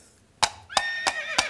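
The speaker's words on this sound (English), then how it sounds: "what's that? Is that a horse out there?" A horse whinnies nearby in four sharp, loud bursts spaced about a third of a second apart, each ringing briefly with a high, shrill tone.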